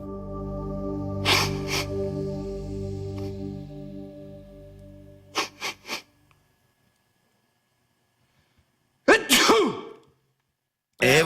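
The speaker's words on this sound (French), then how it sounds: "autrement dit, un éternuement." A person sneezes after sniffing snuff: a breathy buildup, then a sharp burst, followed by a second loud sneeze after a quiet pause, close and with no talk.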